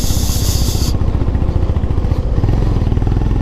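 A motorcycle in first gear climbs a steep hill road toward a fort, its engine loud, close and steady with a throbbing, chugging pulse and wind rush that drops away after the first second.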